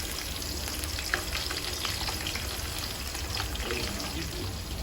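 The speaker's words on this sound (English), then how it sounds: "Then we add in the onion. Give it a quick stir." Onion and dry spices frying in a pan for mutton biryani, a steady close sizzle with faint stirring scrapes throughout, no talk over it.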